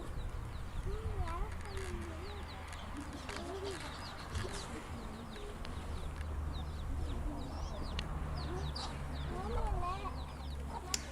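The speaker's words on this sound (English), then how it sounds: "Look at the little chickens." Small chickens cluck and murmur in short repeated bursts at a cat sanctuary, close by amid an outdoor wash of ambient noise, with a person talking faintly in the background.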